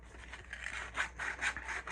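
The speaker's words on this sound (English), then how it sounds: "I'm going to sand this rough edge right here" Fine sandpaper rubs back and forth along the rough edge of an old wooden spoon, making close, steady scratchy strokes with a few louder passes and no talking.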